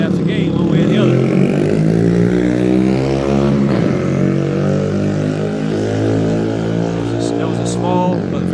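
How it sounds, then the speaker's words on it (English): A small but very loud motorcycle passes close by, its engine a steady, harsh drone that swells and fades across the whole stretch. "That was a small but very loud motorcycle."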